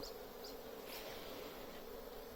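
A swarm of bees files up a white sheet into a hive, giving a steady, dense insect hum throughout, fairly close and unbroken, with no voices.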